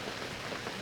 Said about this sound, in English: the rain's getting harder